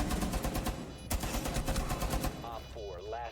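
Rapid fully automatic bursts from a CZ pistol in Rainbow Six Siege, a quick string of close, loud shots that stops abruptly, followed by voices talking.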